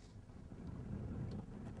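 Strong springtime wind gusts of about 35 miles an hour buffet a fishing boat out on open water, a low rumbling roar swelling and easing against the microphone, steady and close with no voices.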